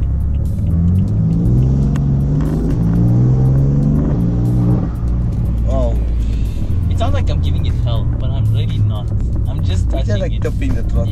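A BMW M3 engine rumbles and rises in pitch as the throttle is applied, the revs climbing and then settling back, with someone talking over it as the car drives.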